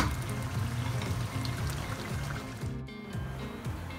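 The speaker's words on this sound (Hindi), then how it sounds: "उसके बाद हम इसमें पानी शामिल करेंगे।" Water poured into a pan of simmering nargisi kofta masala gives a steady, close pour over the low bubbling and hiss of the cooking curry, with a brief lull near the end.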